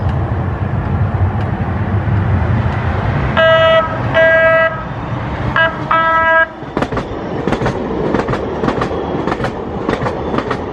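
A trolley on the La Mesa rail line rolls past with a rumbling run, short horn toots in the middle and clicking wheels as it goes by, fairly loud and close.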